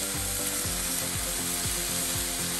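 Egg and rice noodles frying for Penang char kuey teow, a loud steady sizzle with a rhythmic series of scraping and clanking strokes, probably a spatula on a wok, close and without talk.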